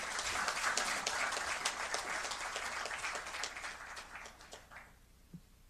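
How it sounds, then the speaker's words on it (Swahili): An audience at NMB Bank's 2023 financial results event applauds with dense, sustained clapping that gradually thins and fades out over the final second. "Tuwapigie NMB makofi ya awali kabisa."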